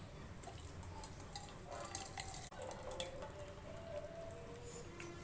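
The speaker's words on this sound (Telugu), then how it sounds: "ఇప్పుడు దీంట్లోని రసం అంతా ఒక గిన్నెలోకి పంపుకుందాం." Tomato rasam pours from a cooking pot into a bowl in a faint, steady liquid trickle with soft splashes and drips, one brief clunk midway, heard without talk.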